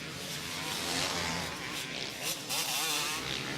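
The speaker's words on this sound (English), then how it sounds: "ahead of number 9, James Dobb, on the factory 250cc KTM" Factory 250cc KTM two-stroke motocross bikes racing at a 2003 MXGP round in Bellpuig, Spain, their engines a continuous high buzzing whine that rises and falls as riders pass at moderate distance.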